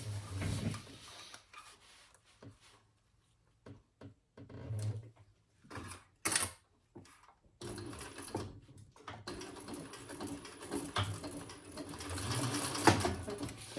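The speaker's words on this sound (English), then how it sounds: "let's stitch that together" A home sewing machine stitches a navy floral crossbody bag in several short bursts followed by a longer steady run, quiet and close, with pauses between the runs.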